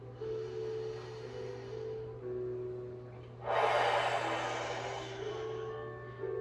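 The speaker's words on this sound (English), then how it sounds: "Inhaling deeply through the nose and out through the mouth." Slow deep breaths during a seniors' stretching routine, a soft airy inhale followed by a stronger, louder exhale through the mouth, over a steady low hum.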